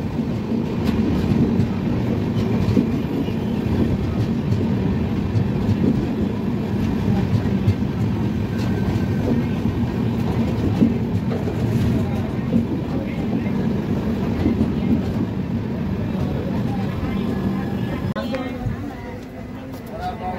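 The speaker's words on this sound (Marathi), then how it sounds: "8:03 परभणी या रेल्वे स्टेशनवरून आपली ट्रेन निघालेली आहे" A passenger train pulls out of Parbhani railway station, its steady rumble and rhythmic wheel clatter heard from on board and holding loud throughout before easing slightly near the end, with faint voices mixed in.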